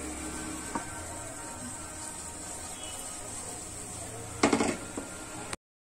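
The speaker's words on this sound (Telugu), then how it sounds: "ఇలా మంచిగా కలర్ వచ్చేంత వరకు ఫ్రై చేసుకోవాలి" Paneer pieces for Paneer 65 fry in a pan with a steady low sizzle, broken near the end by a brief burst of clinks and scrapes as they are turned.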